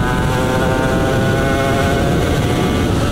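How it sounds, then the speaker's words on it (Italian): A Suzuki RGV 250 R motorcycle engine runs loudly and steadily, its raspy two-stroke drone holding a high rev throughout, with no talking. "Perché moto così non le fanno più! Questa qualità non c'è più! Questo suono non c'è più!"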